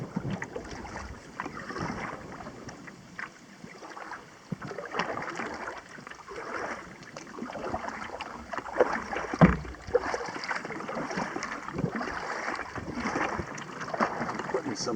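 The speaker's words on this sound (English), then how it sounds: "putting some bend on the blade here to fight this wind." Kayak paddle strokes on Clear Lake, the blade pulling against a headwind with soft rhythmic swishes and splashes under a steady rush of wind buffeting the microphone.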